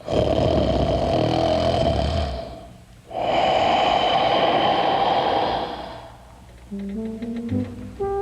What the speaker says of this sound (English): the whole house shook with the sound of his snoring